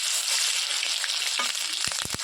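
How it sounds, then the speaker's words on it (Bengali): Small cardamom, cinnamon, cloves and garlic paste sizzle loudly in hot oil as a continuous hiss, with a few dull knocks of a utensil against the pan near the end. "তেলের মধ্যে এটা দিয়ে দিলাম এর মধ্যে দিয়ে দেবো রসুন বাটা"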